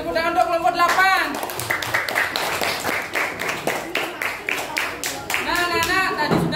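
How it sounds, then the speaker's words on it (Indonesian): A school class applauding group 8 in a classroom lesson, rhythmic clapping in quick bursts, with children's voices and a teacher talking over and around it. "Tepuk tangan untuk kelompok 8."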